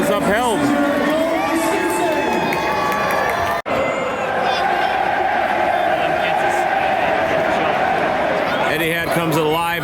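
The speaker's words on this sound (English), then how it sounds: "a roar from the crowd as the goal is upheld" A dense football crowd at Etihad Stadium, Manchester City against Aston Villa in the Premier League, roars loudly after a goal. Cheers and shouts fill the air without a break, with one brief dropout.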